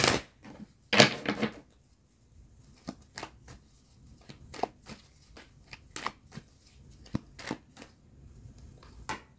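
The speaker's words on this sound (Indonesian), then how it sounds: "Aku tarik dulu semua kartunya." Tarot cards are handled, shuffled and drawn one by one in a quiet room: a loud riffle near the start, then sparse crisp flicks and snaps of cards laid down, close and alone without talk.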